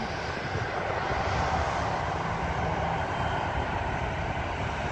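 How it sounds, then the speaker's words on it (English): An EasyJet airliner taxis at an airport, its engines giving a loud, steady roar that does not let up, with no voices. "plane is taxiing."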